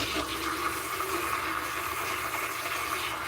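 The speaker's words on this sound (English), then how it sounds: "Fastest, easiest coffee stir in your life." A battery-powered electric stirrer whirls hot coffee in a cup, giving a steady, close liquid swirl and whir that holds constant without pauses or talk.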